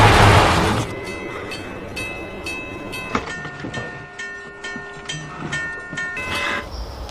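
A train rumbles past close by with rolling wheel noise and sustained tonal ringing from the rails, plus a sharp clank midway.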